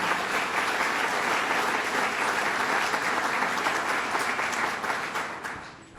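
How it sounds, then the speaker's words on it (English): Steady audience applause at a governor's business announcement event in Western New York, continuous and fairly moderate in level, fading slightly near the end. "let's give them a round of applause."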